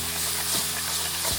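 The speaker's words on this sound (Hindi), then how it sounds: "यहाँ पर अब हम मसाला तैयार कर लेते हैं, जिसके लिए मैंने सरसों का तेल का इस्तेमाल किया है और प्याज लहसुन का पेस्ट डाला है" Masala with onion-garlic paste fries in mustard oil, a continuous bright sizzle with a couple of quick scraping stirs and a low steady hum underneath.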